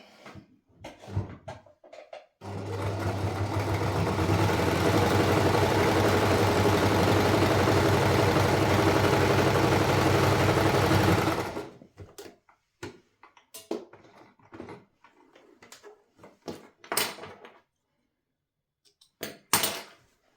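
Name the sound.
sewing machine stitching a kitchen scarf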